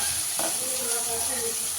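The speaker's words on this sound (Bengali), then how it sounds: "এই যে দেখো বন্ধুরা, উচ্ছে আলু ভাজাটা বসিয়ে দিয়েছি" Bitter gourd and potato frying in a pan, a steady close sizzle throughout with a couple of light scraping stirs, no talking.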